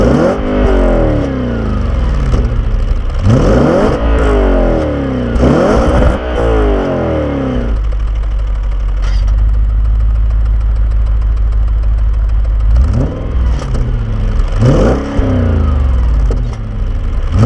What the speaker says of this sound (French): V8 4 litres 2 FSI.